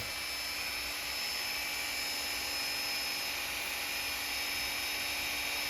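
Dremel rotary tool grinding a small burr off a BTR trunnion during an LS Miata upgrade: a continuous high-pitched whine at steady speed, close and fairly loud, with no talking.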